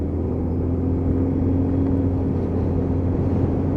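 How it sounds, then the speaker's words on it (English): A Lexmoto Titan motorcycle engine rumbles steadily under a tunnel, with a deep, even low drone that stays loud and continuous throughout, no distinct rev spikes standing out. "Great for doing rev bombs under that tunnel"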